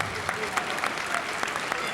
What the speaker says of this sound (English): he garnishes a cheer from the crowd